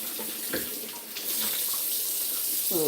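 A kitchen tap runs steadily while produce is washed for juicing, giving a close continuous splash with brief clinks and handling noises.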